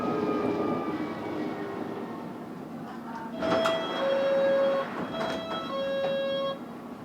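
On board a fast London Underground Metropolitan line train to Aldgate near Moor Park, a steady rumbling run carries rising and falling electric motor whines, with a louder surge midway through.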